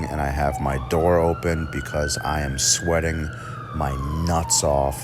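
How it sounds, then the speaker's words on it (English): A siren sweeps past outside an apartment building, its rising and falling wail running steadily under close, continuous talk from a man indoors with his door open. "I totally apologize for the siren you're hearing in the background."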